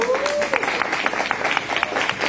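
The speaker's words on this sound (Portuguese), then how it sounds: "Uma salva de palmas bem calorosa, porque eles merecem, são honrados." Warm audience applause at a Christian family forum: dense, continuous clapping from a crowd, fairly loud and close, with no speech on top.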